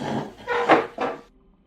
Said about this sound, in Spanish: escuchamos cómo se arrastraba una silla dentro del salón